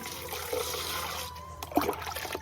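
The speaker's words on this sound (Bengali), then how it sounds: "এই যে এখন আমরা জল নেবো" Water trickles and splashes as it is collected on a chicken farm, a steady close pour with a brief louder gush near the end.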